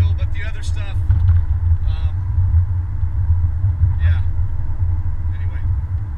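A car rolls downhill at night on a mountain road from Big Bear Lake toward Wrightwood, its steady low engine rumble and road noise continuous throughout with faint high chirps over it.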